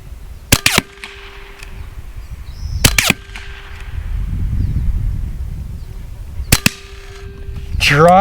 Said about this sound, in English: Dry fire